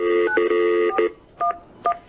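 Telephone keypad dialing tones: a long steady dual-tone run followed by a couple of short separate beeps, close and clear with no talking.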